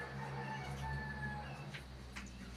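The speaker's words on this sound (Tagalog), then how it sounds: "Napasok ang manok." Chickens that have got inside a house cluck and crow faintly against a steady low hum, with a few sharp calls near the end.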